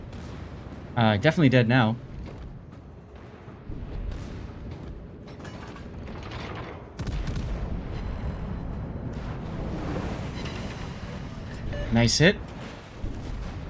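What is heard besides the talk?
cruiser main battery gunfire in video game World of Warships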